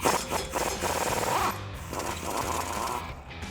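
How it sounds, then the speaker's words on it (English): A 24mm impact wrench removing suspension nuts on a 2015-2023 Ford Mustang: close, loud bursts of rapid rattling hammering that stop and start, with a brief pause between runs. "take my big 24mm impact and take these nuts off"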